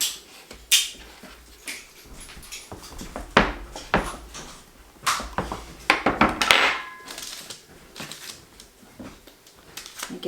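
Another pan is pulled out amid kitchen rummaging, a run of close, uneven clanks, thunks and scrapes of cookware, some sharp and some soft, with no talking.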